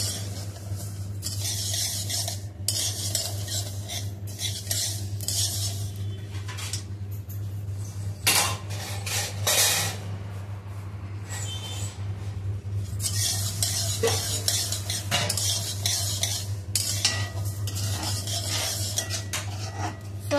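Grains for thalipeeth bhajani dry roasting in a pan, with repeated scraping and stirring of a spoon against the metal, clinks and a soft rasp over a steady low hum, no voices.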